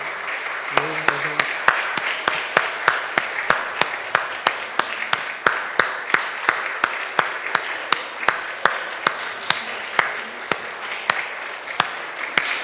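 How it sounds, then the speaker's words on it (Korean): A standing church congregation claps in steady rhythmic unison to welcome someone during a Sunday service, the even beat continuing throughout, with singing faintly underneath and a brief spoken word near the start. "우리 교인들 다 같이 일어나셔서 박수로 환영하겠습니다"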